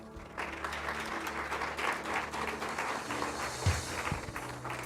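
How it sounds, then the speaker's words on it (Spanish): Church congregation applauding together, a steady wash of many hands clapping that fills the room throughout, with a few louder claps standing out near the end. "Denle un aplauso al Señor."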